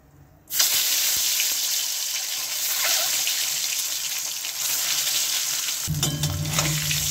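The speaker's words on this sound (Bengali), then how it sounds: "এইভাবে আমি সবগুলি ডিম ভেজে নেব।" Eggs frying in a karahi with a little salt start with a sudden loud burst of sizzling that holds steady and close, then briefly swells near the end, with no voices.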